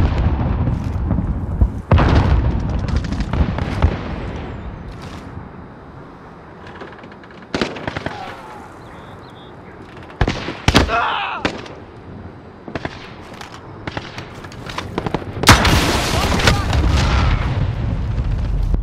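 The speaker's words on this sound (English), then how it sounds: "Grenade out!" Grenade blast and gunfire in the video game Call of Duty: Modern Warfare, with sharp booms and cracks scattered through the clip over a steady rumbling game soundscape.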